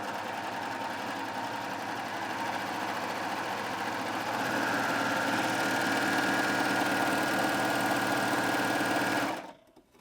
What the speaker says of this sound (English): let's go ahead and sew this combination stitch now so you can see one of those in action.